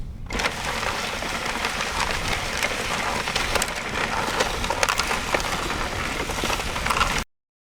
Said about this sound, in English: One thing that's really interesting about this Immergood freezer is this cracking noise.